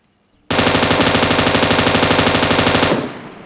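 A rapid automatic burst of gunfire in the mobile game PUBG Mobile, loud and close, with evenly spaced shots rattling for about two and a half seconds before cutting off.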